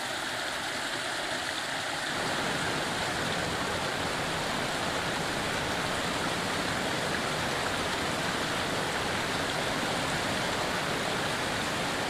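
Mountain stream cascades rush down steep slopes in a steady, broadband roar of turbulent water, loud and continuous throughout with no voices.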